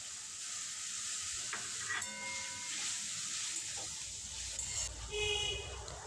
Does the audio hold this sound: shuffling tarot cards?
no